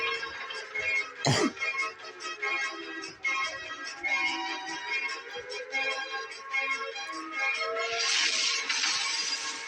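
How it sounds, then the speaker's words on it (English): Glass in train carriages shatters from a shockwave in a sharp sudden crack, followed by a dense, noisy rumble and rattling of debris that swells again near the end. "Caused the glass in the carriages to shatter and rocked them side to side"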